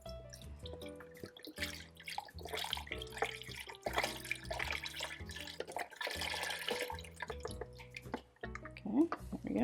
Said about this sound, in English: I'm going to pour the rest of the veggie broth in there